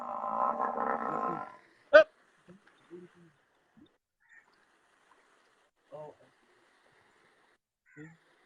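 A farm buffalo bellows for its calf in one loud, low, drawn-out call lasting about a second and a half, followed by a sharp knock and a few faint, scattered short sounds.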